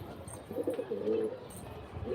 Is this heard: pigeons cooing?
yes